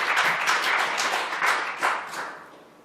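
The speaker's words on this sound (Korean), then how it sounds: "박수로 하나님께 감사해요." Church congregation clapping together during a New Year's Eve revival service, a dense burst of applause with a few rhythmic swells, gradually tapering off toward the end.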